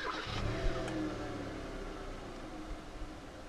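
Push-button start of a 2014 Hyundai Elantra 1.6 petrol engine: a short crank catches into a loud, steady idle hum close by, with no talking.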